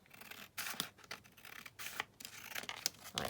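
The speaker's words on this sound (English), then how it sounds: "I would cut that sort of along here" Paper from a 12 x 12 pad is cut with scissors in a series of faint, close snips and scratchy slices, irregularly spaced and with no talking.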